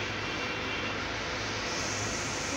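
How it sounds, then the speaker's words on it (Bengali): A Faber Aerostation Series kitchen chimney exhaust fan runs close by as a steady, dense, even whoosh of airflow noise that holds without change throughout. "হ্যাঁ ফ্যানের হাওয়াও ঠিক চলছে"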